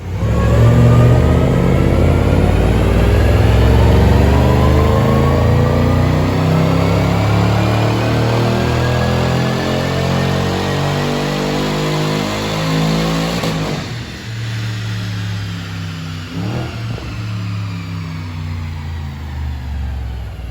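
A car engine on a dyno during a cone versus panel air filter test revs hard and loud, its pitch climbing steadily for about thirteen seconds before it cuts off abruptly and the rumble winds down.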